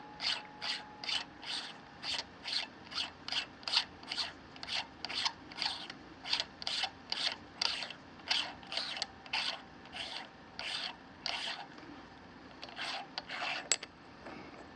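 nPAE ruby turret focusers being screwed up or down on a very fine thread, a close, quiet series of regular ratcheting scrapes in an even rhythm, roughly two per second, with a brief pause near the end.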